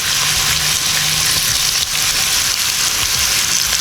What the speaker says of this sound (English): Once you start hearing that noise on your shrimp, you know you're about ready to go.